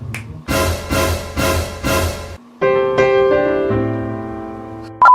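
Four crisp, rhythmic finger snaps ring out loud and close, then give way to a short jingle of sustained musical tones, with no talking.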